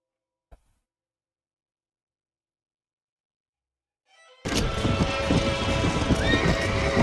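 A horse in the video game Red Dead Redemption, silence broken by a faint thump, then sudden loud hoof clip-clop and whinnying sounds filling the rest, with no talking.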